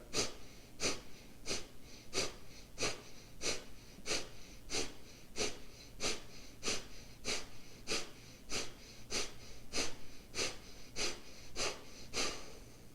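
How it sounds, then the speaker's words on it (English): Sharp, forceful yoga exhales with the belly pulled in, roughly sixteen rapid bursts of breath through the nose in an even, quick rhythm, close and fairly loud with quiet inhales between. "When you breathe out, it's a sharp exhale, and as you're breathing out, you're pulling the belly in."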